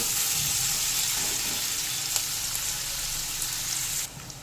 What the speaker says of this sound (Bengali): এবার দিয়ে দেব পেঁয়াজ কুচি। এবার পেঁয়াজটা একটু ভেজে নেব।